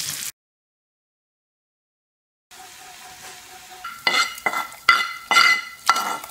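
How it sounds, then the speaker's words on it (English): Large onion chunks sauteing in oil in a pan, a brief sizzle, then silence, followed by quiet frying and a run of clattering spoon-against-pan stirring strokes. "Parallelly in a pan with oil, large chunks of onions which will taste really nice when sauteed."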